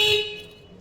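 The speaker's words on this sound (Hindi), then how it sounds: "हॉर्न बज रहा है" A vehicle's electric signal horn sounds during repair work on its activation relay circuit with the ignition on: one short, steady, bright tone, close and fairly loud, fading over under a second.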